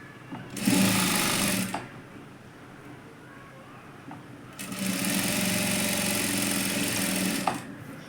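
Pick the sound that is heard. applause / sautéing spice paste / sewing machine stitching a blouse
sewing machine stitching a blouse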